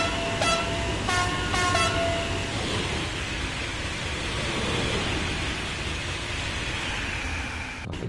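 TGV high-speed train on the LGV Méditerranée in Train Sim World 2, with a steady loud rolling rumble and a few short horn toots near the start, with no talking.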